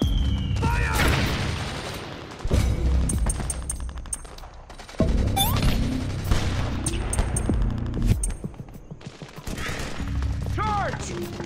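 A dense volley of rifle and machine-gun fire erupts on command in a battle, loud and near, with repeated bursts, booms and mechanical clatter over nearly twelve seconds, under shouted orders.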